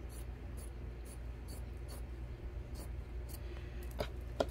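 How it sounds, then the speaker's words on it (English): A pen traces around a 10-inch round template on a drop cloth for a wreath craft, making faint, soft scratching strokes over a low steady room hum, with a couple of sharper ticks near the end. "I'm just tracing a 10-inch so I can get the size of a circle here."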